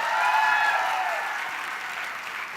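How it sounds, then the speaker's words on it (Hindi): Enthusiastic applause from an audience, steady and full, gradually tapering slightly over a couple of seconds. "एक बार जोरदार तालियां"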